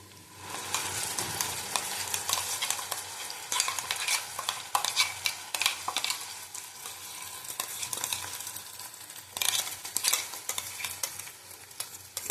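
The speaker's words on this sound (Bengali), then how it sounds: "আবার ভালো করে ভেজে নেব দেখো মশলাটা বেটে রেখেছিলাম ভেজে দিয়ে দিলাম" Ground spice paste of cashew, raisin, ginger, garlic, onion, tomato and garam masala sizzles and spits in a pan with capsicum for aloo dum, the frying steady and close with bursts of stirring scrapes throughout.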